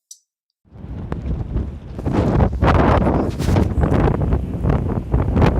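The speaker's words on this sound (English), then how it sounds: "So this is the very windy beach of Porth Tower." Strong gusts of wind buffet the microphone on Porth Tower beach in Cornwall, roaring and rumbling in uneven surges with no one speaking.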